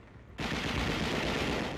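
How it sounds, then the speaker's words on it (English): Heavy automatic machine-gun fire from WWII Battle of Okinawa combat film opens abruptly after a quiet moment and continues as a dense, sustained roar of rapid shots. "Heavy automatic fire brings down the fleeing Japs."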